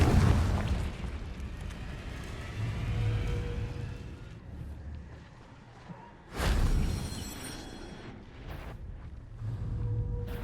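Confringo spell blasts in the video game Hogwarts Legacy, a burst at the start and a sharp, loud boom around the middle, each fading into rumbling game ambience between them.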